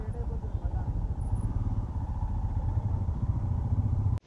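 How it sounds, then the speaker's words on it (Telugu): A motorcycle rides along a road on a trip through North Goa, its engine a steady close rumble with road noise throughout before cutting off at the end; a voice talks faintly over it. "మన బైక్లో ట్రిప్ స్టార్ట్ అయింది కదా"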